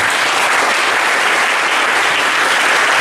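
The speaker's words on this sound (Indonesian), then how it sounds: "Tepuk tangan untuk kita yang orang baik." Dense, steady applause from a room of high school students at an SMA civic outreach session, loud and continuous throughout with no talk over it.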